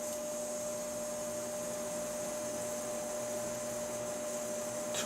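A torch roars steadily and close as it heats a metal part for case hardening, a constant broadband hiss with a faint steady hum and no breaks.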